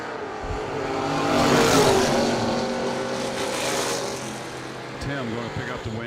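A Mazda RX-7 drag racing car at a bracket race track roars through a run, engine noise swelling to a loud peak and then holding steady, with a track announcer talking over it.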